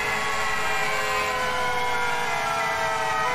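Many fire engine sirens wail together at a two-dwelling second-alarm house fire, forming a dense, steady, loud wash of overlapping tones with engine rumble beneath and no pauses.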